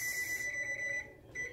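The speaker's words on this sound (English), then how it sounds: "And I'll set the timer." An oven timer beeps as it is set in a home kitchen, a high electronic tone that rings steadily for about a second, pauses briefly and sounds again, close and clear with no talking.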